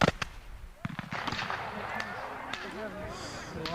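Musket shots at a 1992 Civil War reenactment at Neshaminy, several sharp, scattered cracks, some near and some distant, over crowd noise and background voices in an open field.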